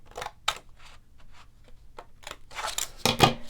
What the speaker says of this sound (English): get in that groove with my scissors